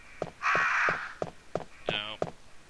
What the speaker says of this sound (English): Got these crows sitting up here, which I can't really do anything about.